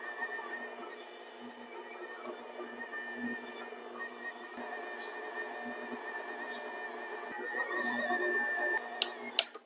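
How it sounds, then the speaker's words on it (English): A stand mixer runs on low speed, kneading soft bread dough for cheese rolls with a steady mechanical hum and whine. It stays moderate and close, with a few light knocks and clicks near the end. "I'm gonna put the mixer on low"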